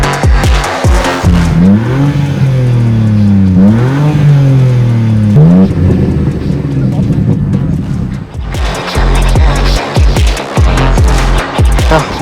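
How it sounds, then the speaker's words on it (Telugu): A BMW M2's engine fires up loud and close, then revs in rising and falling sweeps before settling into a rough, throaty idle, with talking over it. "ఒకసారి అయితే ఈ కార్ స్టార్ట్ చేసి చూద్దాం."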